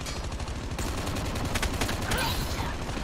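Rapid M4 assault rifle gunfire in the mobile shooter Call of Duty Mobile, a dense run of loud automatic bursts filling the clip with a few brief gaps.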